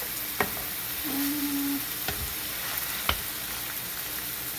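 Homemade Hamburger Helper pasta simmering in broth in a pan, a soft continuous sizzle and hiss broken by a few sharp knocks and a brief tonal whine, steady and close, no one speaking.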